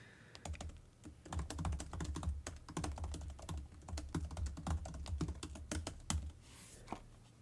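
Computer keyboard typing picked up by an Elgato Wave:1 microphone, a rapid close run of crisp key clicks and thumps going on steadily for several seconds with no talk.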